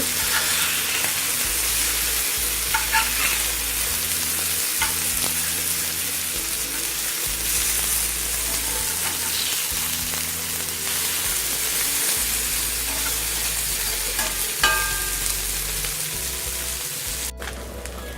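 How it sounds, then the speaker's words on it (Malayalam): Steady, loud sizzling of fish frying crisp in a pan, Kerala style, with occasional scraping and a low background hum throughout. "അങ്ങനെ നമ്മളുടെ മീൻ ഇപ്പം നന്നായി മൊരിഞ്ഞ് വന്നിട്ടുണ്ട്"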